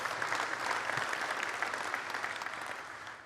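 An audience at a SwiftUI programming talk applauds in a steady, dense wash of clapping that holds for about three seconds and fades slightly at the end.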